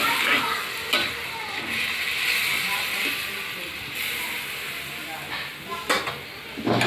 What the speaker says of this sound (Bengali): এবার তরকারিটা ফুটুক।